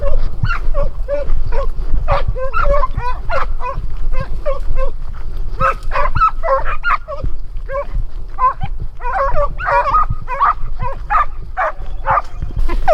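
A pack of Italian hounds bays in full cry while trailing a hare during a hunting trial, many overlapping voices giving dense, continuous yelps and howls at mid distance over a steady low rumble of wind or ground noise.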